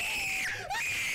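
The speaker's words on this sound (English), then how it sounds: "They just hear me screaming" A man playing a scary game lets out a sharp, high frightened scream lasting about a second, the pitch wavering and dipping briefly before rising again.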